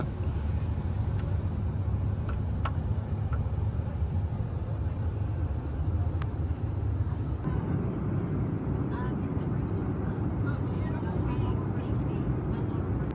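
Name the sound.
Jetstar Airbus A321 cabin noise during descent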